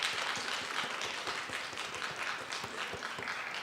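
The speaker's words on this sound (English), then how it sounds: "We want to give a round of applause for our awesome panelists." An audience applauds the panelists at the close of an international business career-week panel, a dense, continuous wash of many hands clapping in a small room, steady and moderately loud throughout.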